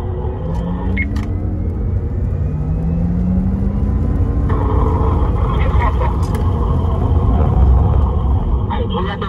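Porsche sports car accelerating out of a corner on a track, a deep engine rumble with a rising tone growing steadily louder, with voices talking over it.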